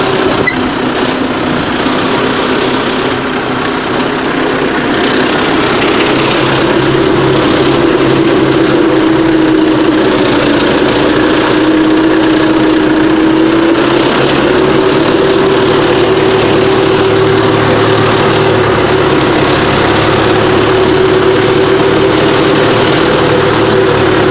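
A tractor pulls a homemade 12-metre harrow across a field, its engine a loud, continuous drone with a steady hum, running alone with no voices for the whole stretch.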